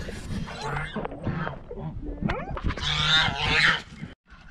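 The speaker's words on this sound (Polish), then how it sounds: "Gęsi sobie piją." Geese honk and gabble at close range while drinking water, with overlapping calls and splashy bill sounds, loudest near the end before dropping away.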